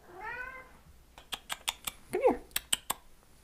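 A cat meows with a rising, harmonic call near the start, followed by a run of sharp, evenly spaced clicks and a brief rustle, all close and fairly quiet with no talking.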